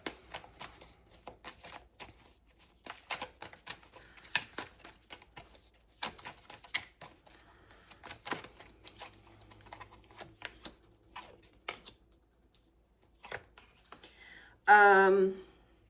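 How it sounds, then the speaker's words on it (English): Tarot cards being shuffled in a reading session: scattered soft riffling and tapping clicks spread through the clip, fairly faint and close, ending in a brief louder burst near the end. "So I'm just going to shuffle a couple of times"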